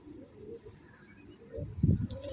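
A golden pigeon gives low, soft cooing, faint at first and swelling into a louder burst of coos near the end, against quiet background noise.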